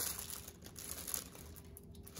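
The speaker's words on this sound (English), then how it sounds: "There again in the plastic bag, lots of bubble wrap." Quiet crinkling and rustling of a plastic bag and bubble wrap being unwrapped from a bronze block plane, continuing throughout, soft and close.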